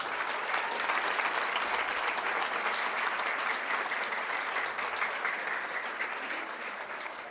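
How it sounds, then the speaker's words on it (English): A room full of people at a school board meeting claps steadily for a student athletic trainer program, a dense, even burst of applause that holds for several seconds and then gradually thins out. "Let's give them a huge round of applause."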